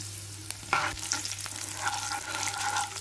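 Garlic, chana dal and urad dal sizzle steadily in a hot pan, and a utensil stirs them with a scraping stroke partway through. The frying is quiet and close, with no talking.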